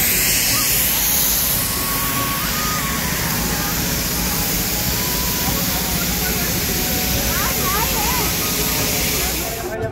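A rain-forest-style water feature near a terracotta temple model gives off a steady, broadband rush of light falling water, loud and unbroken throughout, with faint background activity behind it.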